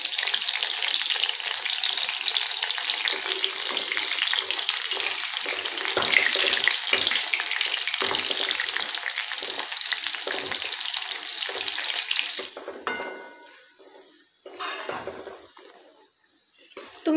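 Soybean pieces deep fry in hot oil until red and crispy, a loud, dense, continuous bubbling hiss that cuts off abruptly, leaving quieter scattered sizzles and faint background noise.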